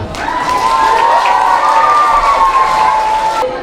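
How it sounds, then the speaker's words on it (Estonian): Audience at a school playback singing contest for grades 1 to 4 applauds and cheers as the jury leaves the hall, a loud, steady burst of clapping and shouting voices lasting throughout. "saadame palun žürii aplausiga saalist välja"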